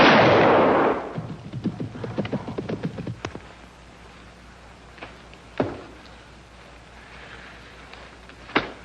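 A single loud gunshot from a hunting rifle booms and decays over about a second, followed by a brief voice-like cry and a few scattered sharp clicks against quiet outdoor ambience.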